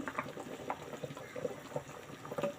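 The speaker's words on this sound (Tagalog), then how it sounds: "kumukulo na siya" A pot of fish and sponge gourd soup bubbling at a steady simmer, with soft irregular pops and gurgles rising and falling close by.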